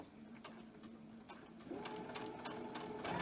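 A sewing machine stitches quilt pieces for a mystery quilt in a soft, steady whir of closely spaced needle ticks that grows a little louder and faster partway through, heard near and alone.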